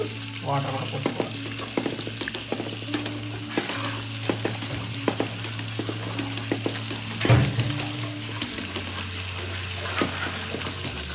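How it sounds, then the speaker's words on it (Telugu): Whole chicken roasting in a pan with cashew, almond and dried coconut masala paste and added water, sizzling and bubbling steadily up close with occasional stirring clatter. "ఇప్పుడు మంచిగా మన కోడి అంతా రోస్ట్ అయిపోయింది"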